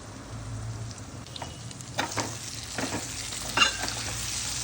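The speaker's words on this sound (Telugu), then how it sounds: "ఇది మొత్తం ఇట్లా దగ్గరికి ఇంకా ఫ్రై అవుతుంది" Paperlu fish sizzling in a hot pan, a steady crackle of frying with occasional louder spits and stirring scrapes, close and moderately loud, no talking.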